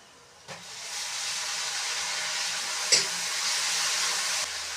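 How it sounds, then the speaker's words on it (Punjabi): Onions frying in a pan on a home stove give a steady, close sizzling hiss that carries on without a break, with a couple of brief clinks of stirring and no voices. "ਪਿਆਜ਼ ਭੁੰਨਣੇ ਪਾਏ ਹੋਏ ਨੇ"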